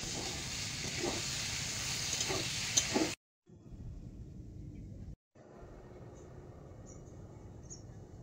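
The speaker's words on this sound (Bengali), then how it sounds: "লবণ হলুদ দিয়ে আলু বেগুনটা ভেজে নেব" Potatoes and eggplant frying with salt and turmeric in a home kitchen, a steady broadband sizzle that fills the first three seconds, then quieter low frying hiss after brief breaks in the sound.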